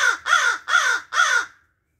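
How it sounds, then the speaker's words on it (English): An American crow gives four loud, harsh caws in an even rhythm, close and clear against silence, each call rasping and slightly falling, with no other sound around them. "Here we have ourselves the American crow."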